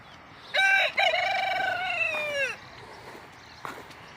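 A rooster crows on a family farm, one loud, close, drawn-out cock-a-doodle-doo that rises and then trails off. A brief faint sound follows after a short quiet pause, and no one speaks.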